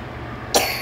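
A child coughs once in a short, sharp burst, slightly distant, inside a home kitchen where rice kabsa is being cooked, with quiet room noise before it and a faint second hit at the end.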